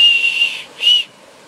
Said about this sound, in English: The whistle wasn't quite loud enough for what I like it, so I just hollowed it out a little bit more.